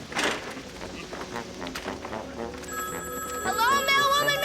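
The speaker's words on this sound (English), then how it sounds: "let me answer that ringing phone" A telephone rings in a scene from the TV series The Adventures of Pete and Pete, its bright electronic trill entering partway through over background noise and voices.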